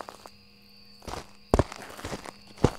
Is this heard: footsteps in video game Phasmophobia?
yes